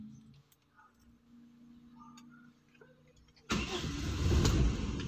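A car engine cranks and fires up after its battery is reinstalled during a DIY repair. Quiet ticking and small clicks come first, then the engine catches abruptly and settles into a loud, steady, close-up running roar.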